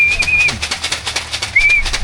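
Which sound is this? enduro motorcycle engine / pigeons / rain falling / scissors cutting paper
pigeons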